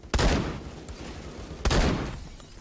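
Two sharp bursts of gunfire in the shooter game Phantom Forces, each a loud crack with a short ringing tail, spaced about a second and a half apart with a faint pop between them.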